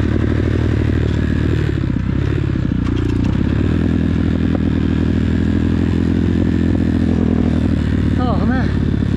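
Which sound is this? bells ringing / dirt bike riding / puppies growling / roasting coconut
dirt bike riding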